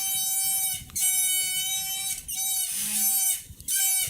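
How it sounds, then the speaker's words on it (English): A microphone stand squeaks in repeated high, whistling creaks, each lasting about a second with short breaks between them, over a quiet room hum. "The iconic squeak of the mic stand."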